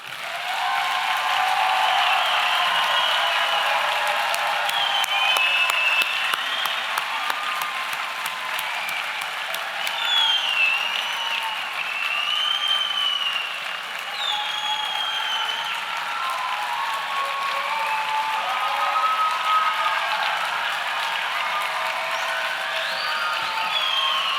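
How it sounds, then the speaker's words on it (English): Sustained applause from a large audience honoring cadets at a youth academy commencement ceremony, steady and dense clapping with scattered whistles and cheers, filling the whole stretch without pause. "Can we get a round of applause for the cadets, please?"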